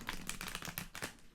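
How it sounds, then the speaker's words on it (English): Tarot cards shuffled by hand in a pick-a-card reading, a quick run of crisp papery riffles and taps, close and fairly quiet, with no talk over it. "One more shuffle because that last one was really bad."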